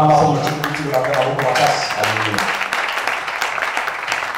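A church congregation applauding during a worship service, a dense wash of clapping that rises over a fading voice or music and carries on steadily to the end.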